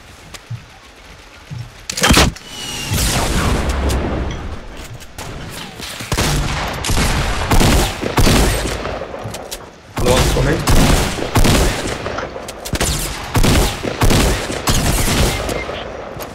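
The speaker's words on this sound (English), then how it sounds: "he kept shooting at me" Gunfire in Fortnite comes as dense, loud bursts of rapid shots with short pauses between them, and a few single cracks as well.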